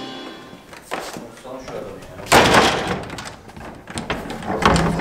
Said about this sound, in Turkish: Kapıyı kırıyorsun, kapıyı.